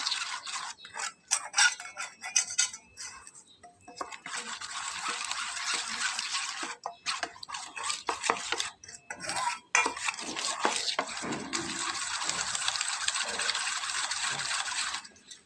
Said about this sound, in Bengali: যেহেতু চালের গুঁড়া দেওয়া আছে সেজন্য খুব ভালোভাবে মেশাতে হবে যাতে ময়দার সঙ্গে চালের গুঁড়োটা খুব ভালোভাবে মিলে যায়